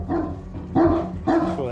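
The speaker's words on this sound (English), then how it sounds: "These ferocious barks belong to juvenile Newfoundlands, Simon and Panda," Juvenile Newfoundland dogs bark in deep, loud, close bursts, three heavy woofs spaced about half a second apart inside a house.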